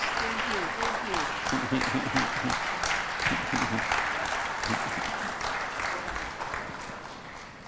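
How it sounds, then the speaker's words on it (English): Sustained audience applause from a large crowd at a Kenyan event hall, steady and dense throughout and tapering slightly at the end, with a speaker's voice heard briefly over it. "let's give a warm clap for that"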